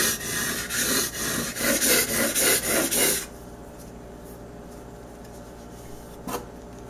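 A scraper plane blade is rubbed back and forth on a 1000 grit sharpening stone in about eight close, gritty strokes. The sound then stops, leaving near quiet with one faint scrape later on.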